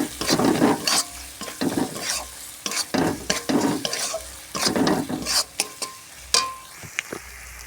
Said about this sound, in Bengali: ভালো করে এটা কষিয়ে নিতে হবে মশলাটাকে।